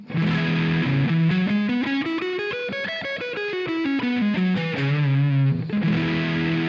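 A distorted electric guitar plays a pentatonic lick, notes climbing steadily then descending, ending on sustained bent notes; loud and continuous with no talking.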